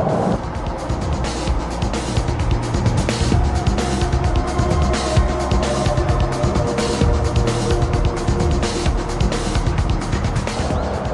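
A Bugatti Veyron 16.4 accelerating hard, its engine roaring loud and continuous with a rising, sustained intensity and a broad rushing noise throughout, no voices.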